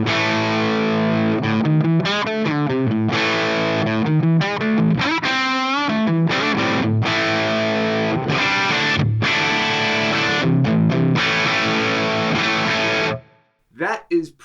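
Distorted electric guitar through a Marshall JVM amp on its red channel, a loud, thick stream of chugged chords and bent lead notes played alone for about thirteen seconds before cutting off into a couple of brief stray notes.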